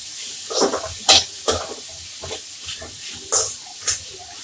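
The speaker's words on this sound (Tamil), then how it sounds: "தக்காளியும் நல்லா வதங்கணும்" Tomatoes sautéing in a pan for a Tamil urundai kuzhambu, with soft sizzling and several sharp clinks and scrapes of a stirring spoon against the pan, close by and in bursts, no talking.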